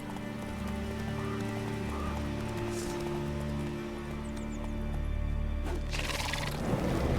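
Horse hooves clip-clop in a steady rhythm with an occasional neigh in The Witcher 3: Wild Hunt, set over a sustained background score, with a burst of brighter noise near the end.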